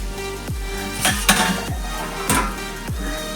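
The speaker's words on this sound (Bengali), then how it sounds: "এটা আমি ঢাকাটা এবার তুলে নেব।" A metal lid lifted off a cooking pot of moong dal with ash gourd, giving several sharp clanks and ringing knocks in a loose rhythm over a low hum.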